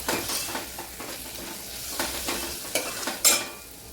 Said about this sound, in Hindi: मसाले को हम मिक्स करेंगे।